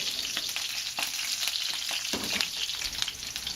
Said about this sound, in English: After the stalks have just started to blister, we're going to throw in the garlic and let that fry for a bit.